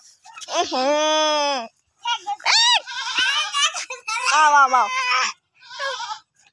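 High, wavering bleats from a young goat, four or five calls in a row with short gaps, close and fairly loud.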